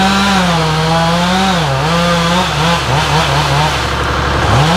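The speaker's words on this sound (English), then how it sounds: "Probably just a little finishing touch with a chainsaw." Chainsaw cutting a tree during timber harvesting in a wooded stand, loud and close with a steady droning engine whose pitch rises and dips as the bar bites into the trunk.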